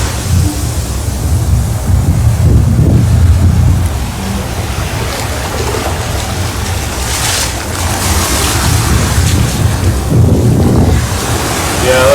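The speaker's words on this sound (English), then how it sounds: "I kept showing you guys the waves of the water." Ocean surf breaking along the Los Angeles shore, a steady loud wash of waves with wind buffeting the microphone throughout, swells rising and falling without any talk.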